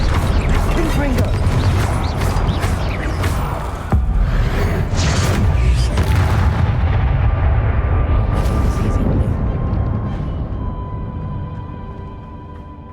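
A Confringo spell explosion in a Harry Potter video game: a loud, dense burst with crashing and rumbling mechanical debris. It stays sustained for several seconds, then thins and fades toward the end.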